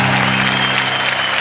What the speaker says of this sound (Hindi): जोरदार तालियां संतोष आनंद के लिए।